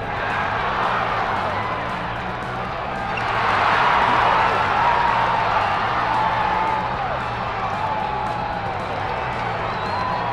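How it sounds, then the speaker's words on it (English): A large opening-day race crowd in the Cars animated film roars steadily from the stands, a dense wash of cheering that swells louder in the middle before settling back to a constant far-off din. "this is a great opening day crowd"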